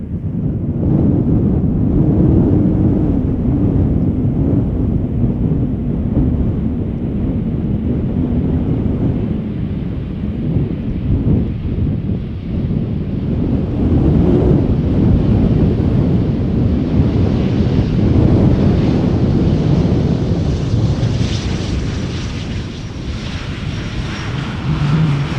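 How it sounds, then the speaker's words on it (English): A KLM Embraer 190 jet arrives at Schiphol with a loud, continuous low roar that swells and slowly shifts over time, heavily mixed with buffeting wind noise on the microphone, with no talking. "flying as KLM flight 1774, arriving from Berlin"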